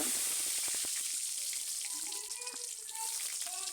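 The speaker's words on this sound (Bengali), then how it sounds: "এবার আমি এ তেলের মধ্যে একটা আলু কেটে নিয়েছি সে আলুটা এখানে বেজে নেব" Cut potato sizzles in hot oil in a pan, a steady close crackling hiss with faint popping and bubbling throughout.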